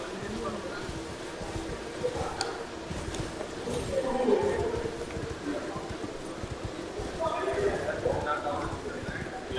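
A horse gallops with rhythmic hoofbeats while riding in Elden Ring, steady clip-clop under a player talking over it, with game sounds in the background.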